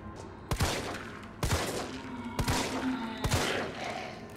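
Gunfire in the zombie video game Resident Evil 3: four loud, sharp shots spaced about a second apart, each followed by a ringing tail over a steady game background hum.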